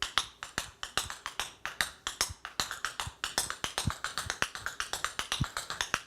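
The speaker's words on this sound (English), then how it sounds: "More of what Kimberly does in the show is a little more of a standard kind of theater Broadway style" Rapid, crisp tap steps on a hard floor, a steady rhythmic stream of sharp clicks and heel strikes, close and fairly quiet, no voices.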